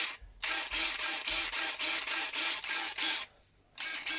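Ausonia and Swansoft PRU28 electric pruning shears whir in a steady pulsing rhythm, about a dozen regular mechanical beats, close and loud, pausing briefly before starting again.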